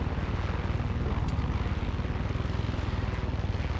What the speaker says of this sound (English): This is not a carrying helicopter.